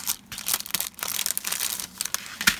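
Plastic packaging of a die set crinkles and crackles in irregular bursts as it is handled and opened, a close, dry rustling with sharper snaps near the end.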